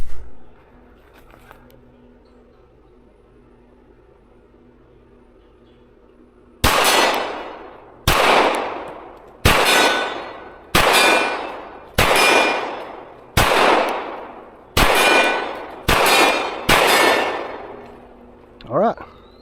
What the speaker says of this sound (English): first shots with the Fusion Firearms XF Pro